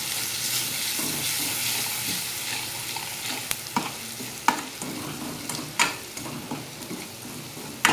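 Red chilli powder, turmeric, salt and cumin powder stir-frying in a pan for a drumstick curry make a continuous hissing sizzle, with irregular spoon knocks and scrapes growing more frequent toward the end.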